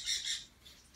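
A hand-fed pet baby toucan gives short, harsh, raspy squawks up close, two quick bursts followed by a fainter one, with no talking.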